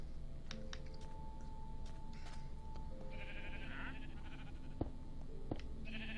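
Sheep in Minecraft bleat a few times, soft nasal calls at moderate distance over a steady low ambient hum, with faint clicks in between.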